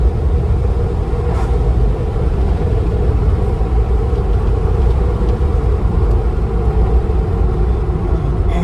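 A 1993 Ford Bronco with a newly fitted engine driving along, a steady loud low rumble of engine and road noise throughout, with no breaks.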